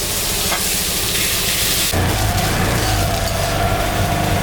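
Fish mince frying in a pan for a stuffed bitter gourd dish, a steady close sizzle with stirring scrapes and a shift partway through as the mixture is moved, no talk.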